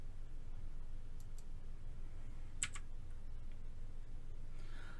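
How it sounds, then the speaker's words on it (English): A few faint, sharp clicks from a computer mouse and a keyboard's delete key sound against a quiet low hum, isolated and close, with no talk. "Click inside the area and then just hit the delete key on your keyboard."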